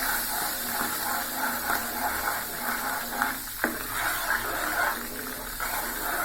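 Halwa is stirred in a pan as the ghee separates out, giving a continuous soft sizzle with faint scraping and stirring sounds throughout.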